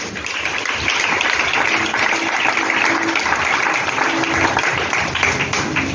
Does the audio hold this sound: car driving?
no